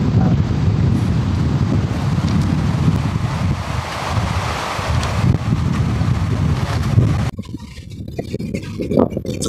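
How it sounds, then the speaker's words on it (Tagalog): Strong wind buffets the microphone at a seaside spot where wooden boats are pulled up, with surf roaring steadily underneath; the blustery rush stays loud throughout, dropping briefly near the end before gusting back up. "Baka malakas na yung hangin."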